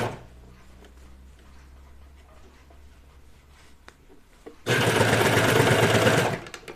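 Serger sewing machine stitching a pajama top, a loud steady whir running close for about two seconds after a quieter stretch of low handling noise.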